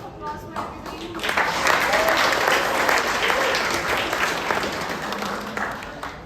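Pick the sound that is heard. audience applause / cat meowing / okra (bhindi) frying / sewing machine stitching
audience applause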